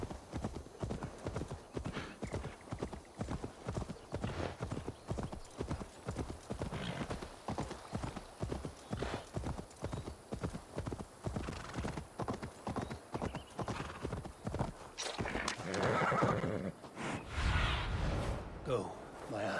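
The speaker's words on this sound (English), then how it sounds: "I wanted to mount the horse" Horse hooves gallop in a steady, rapid rhythm for a long stretch in Assassin's Creed Valhalla, with a neigh and louder hoof bursts near the end, all fairly close and prominent.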